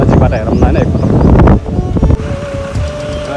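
Strong wind buffets the microphone at the Karnali bridge, a heavy, close, roaring rumble that eases slightly toward the end, with a voice talking over it.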